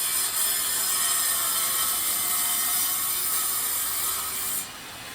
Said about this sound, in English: Just grind just a little bit off